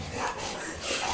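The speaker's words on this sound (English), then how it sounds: "she is the one that is making all the growling noise" A playful dog growling and snorting while playing with a green ball, a continuous close rough rumble with breathy bursts.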